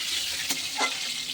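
Pieces of pointed gourd (potol) sizzle gently in a pan, a soft steady frying hiss broken by two quick scraping stirs.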